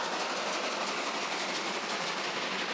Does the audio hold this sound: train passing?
yes